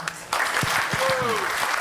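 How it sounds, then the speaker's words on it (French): Applause from an audience at a gathering honouring Thierry Cornaille, the government member in charge of the budget, swelling up after a brief pause into a steady clatter of clapping, with a voice speaking over it. "Merci de l'applaudir"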